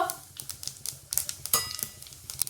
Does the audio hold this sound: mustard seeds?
yes